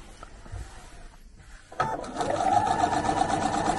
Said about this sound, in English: the entire time all I'm doing is stitching down the center of the tape.